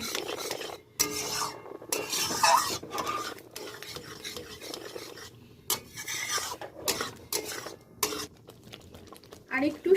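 Sugar being stirred into papaya payesh in a cooking pot, a spoon rasping and scraping against the metal in steady uneven strokes with brief pauses, close and moderately loud.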